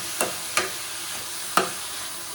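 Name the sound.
tomatoes being stirred and sizzling in a frying pan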